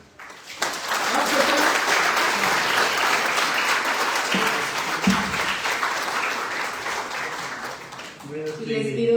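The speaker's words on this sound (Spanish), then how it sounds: "le demos un fuerte aplauso a nuestro invitado" Audience at a lecture in a technological institute hall breaks into loud, sustained applause for a guest speaker, dense and continuous, tapering near the end as a voice returns.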